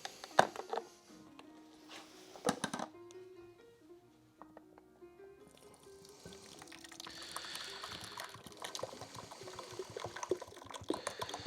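Thick tomato soup is poured into a Dutch oven, with gurgling, splashing liquid and intermittent clinks and scrapes at close range in a quiet kitchen.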